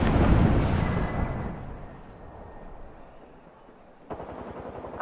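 Heavy automatic gunfire and explosive blasts in the battle royale shooter Apex Legends, loud and dense at first, then thinning to a rumbling tail before a fresh burst of rapid shots near the end.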